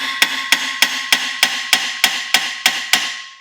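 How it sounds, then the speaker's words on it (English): Ten evenly spaced metallic hammer taps ring out close and loud, striking a 6mm adapter seated on a corroded brake bolt of a BMW E90/E92, each hit decaying quickly before the next. "using the hammer to tap it in there"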